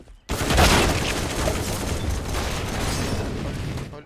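Flashbang grenade going off in a first-person shooter match: a sudden loud burst followed by a sustained harsh roaring wash that fills the remaining seconds.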